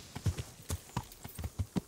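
Horse hooves clip-clop in a quick, uneven run of about eight muffled thuds in the medieval role-playing game Kingdom Come: Deliverance. The hoofbeats sound close, with no clear whinny.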